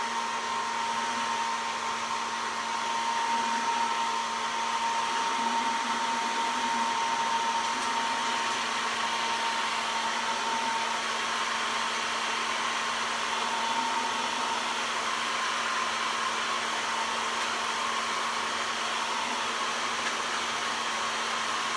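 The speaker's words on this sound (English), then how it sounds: "I'm going to have to put the dryer, which is really noisy, on this" A noisy hair dryer blows steadily and close for the whole stretch, drying a rustic-finished cookie tin, with a constant whooshing roar and a faint high whine and no talking.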